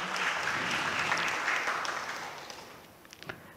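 A hall full of people applauds the new doctors at a graduation ceremony of the Faculty of Medicine at Universitas Airlangga, dense clapping that gradually fades and thins into a few scattered claps.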